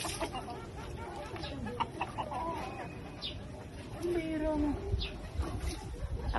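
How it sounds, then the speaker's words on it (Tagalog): White Leghorn chickens cluck softly in a yard under steady background noise, with people talking nearby over the calls. "Isang manok."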